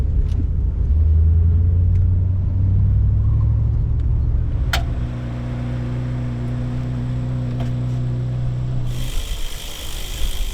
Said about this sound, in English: but car's still running